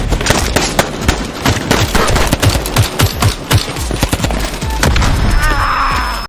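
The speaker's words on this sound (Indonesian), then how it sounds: "hingga akhirnya terjadi adu tembak" Intense film gunfight with machine guns and heavy weapons, rapid bursts of loud, sharp gunfire crackling in dense rhythmic volleys, then a sustained roaring rush near the end.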